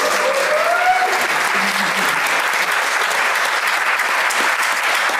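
A congregation applauds graduates during a rites of passage service, with dense, steady clapping from a large indoor crowd that stays loud and even from start to finish.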